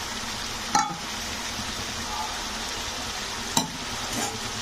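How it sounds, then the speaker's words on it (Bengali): Mango paste being stirred into fish curry frying in a pan, a steady sizzle with two distinct sharp spatula knocks, no talking. "তো একটু নাড়াচাড়া করে দেব আম মাখাটা দিয়ে"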